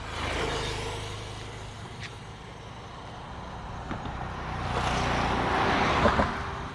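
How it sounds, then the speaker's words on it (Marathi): Cars speed past on a bridge over a river in a village near Vengurla, a broad, steady roadway rush that swells toward the end as a vehicle draws near and goes by. "गाड्या बघा किती फास्ट जातात इकडनं."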